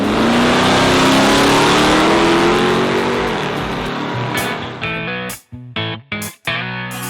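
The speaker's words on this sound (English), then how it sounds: "the Dodge D150 Adventurer Little Red Express truck" A 1978 Dodge D150 Adventurer Little Red Express pickup truck engine revs loudly and steadily, its pitch climbing, then breaks into several sharp throttle blips separated by brief gaps near the end, with no talking.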